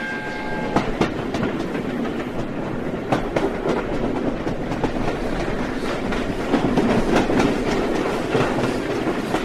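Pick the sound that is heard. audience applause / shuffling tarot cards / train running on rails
train running on rails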